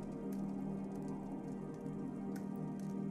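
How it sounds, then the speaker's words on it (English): Wood burning in a fireplace while wintry wind drives snow against the windows, a steady soft patter and hiss with faint crackles, continuous and even throughout. "The crackles and pops of burning wood create a soporific soundtrack when joined by the wintry winds and snow pelting against the windows."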